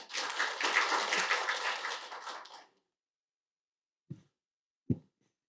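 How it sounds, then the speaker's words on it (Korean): A burst of applause from a room full of people at a policy forum lasts a couple of seconds and then stops abruptly, followed by silence and two soft thumps. "박수 부탁드립니다."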